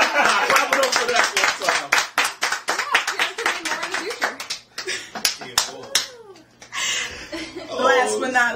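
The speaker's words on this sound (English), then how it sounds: "Clap it up for that." People talking and laughing over bursts of clapping, several short rounds of hand claps mixed in with chatter.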